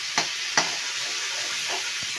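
Meat and ground spice paste sauté together in a pan with a steady, close sizzling hiss, broken by a couple of sharp spoon scrapes near the start and a softer one toward the end.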